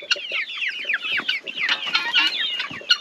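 A backyard flock of chickens and four guinea fowl clucks and chatters busily at close range, with overlapping squawks and clucks in a dense, lively stream and no talking.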